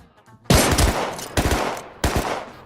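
Three loud, close bursts of rapid automatic gunfire in the survival video game Rust, likely from an AK rifle, each burst a quick string of sharp cracks separated by brief pauses.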